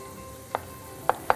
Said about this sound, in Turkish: Mantarımızı doğrayalım.